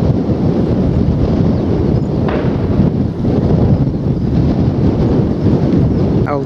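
Strong coastal wind at Old Hunstanton buffets the microphone with a loud, continuous low roar and rushing gusts, and nothing else is heard over it.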